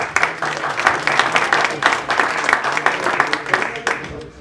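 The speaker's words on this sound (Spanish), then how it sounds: "que aplausos también para Ana" Audience at a beekeeping fair round-table applauding the official translator, a dense, steady wash of many hands clapping throughout, fairly loud and close, with some voices mixed in underneath.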